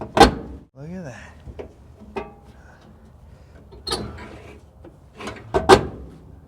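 Parts being fitted into the cab of a 1979 GMC truck: sharp knocks and clunks of the glove box and door going in, with a squeaky scrape in between, irregular and close, separated by quiet gaps.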